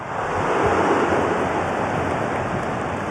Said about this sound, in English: The crowd encouraging him to take it on